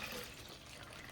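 Water pours steadily into rice in a pot for chickpea biryani, a continuous close splashing gush that fills the short moment with no talk over it.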